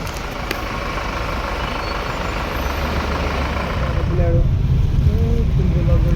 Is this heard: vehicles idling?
yes